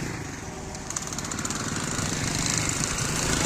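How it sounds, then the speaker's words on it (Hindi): Road machinery works on a highway bypass, with welding and cutting gear running as a loud, steady mechanical drone that has a fast rattling pulse and builds slightly in volume. "काफ़ी मशीनरी ऊपर भी काम कर रही है, वेल्डिंग और कटर मशीन के साथ।"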